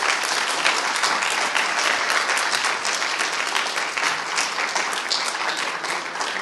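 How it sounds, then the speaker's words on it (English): An audience at the final seminar of a lecture series gives Professor Hubert Dreyfus a sustained round of applause. The clapping is dense, even and fairly loud, with no voices over it. "we should certainly have another round of applause for Professor Dreyfus"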